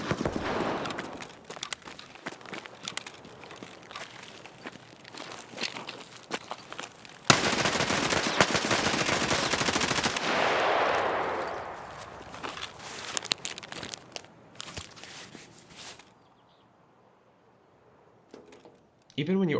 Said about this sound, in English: gunshots from across the map are the jump scares